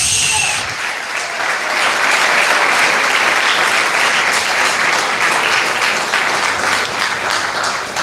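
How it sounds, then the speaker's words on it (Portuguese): Church congregation applause rises after a brief opening moment and then holds as a full, continuous sheet of clapping from many hands, loud and close, fading slightly toward the end. "batendo palmas para Jesus"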